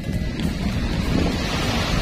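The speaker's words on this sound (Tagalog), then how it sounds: "At napakalakas ng mga alon" Strong wind and heavy sea waves off Isla Rancho, with boats nearby: a steady, loud roar of surf and gusting wind fills the whole stretch without a break, and no voices are heard.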